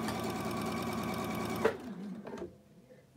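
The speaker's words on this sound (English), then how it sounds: "sew on the other side of that line" A sewing machine stitching fabric along a marked line while piecing flying geese quilt blocks, running in a fast steady whir for about a second and a half before stopping, followed by a few small clicks and handling noises.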